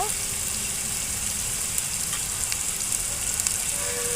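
Mint, coriander leaves and tomato frying in a pan, a steady close sizzle that hisses evenly throughout with no talk over it.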